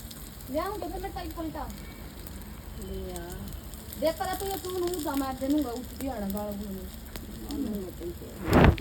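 A puda pancake fries in mustard oil with a steady soft sizzle, while a person talks over it and a brief louder crackle comes near the end.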